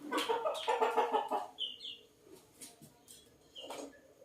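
Chicken clucking, a burst of several close clucks at the start followed by quieter scattered calls and a few high chirps in a home setting.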